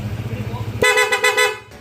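An aftermarket PIAA horn on a Honda ADV 160 motorcycle blares in one long loud, close honk with slight pulsing, cutting in over a steady engine idle.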